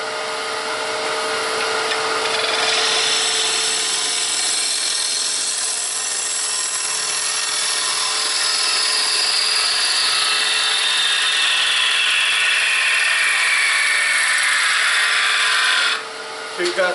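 A gouge cuts a wooden bowl spinning on a lathe, giving a steady, loud, broadband shaving hiss with a tone that slides slowly downward through the cut, ending abruptly near the end.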